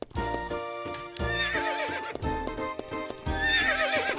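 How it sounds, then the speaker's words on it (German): Horses in a video game whinny loudly in several long neighs, with clip-clop hoofbeats, close and clear, no talking over them. "Das sind Pferde mit korrektem Ton."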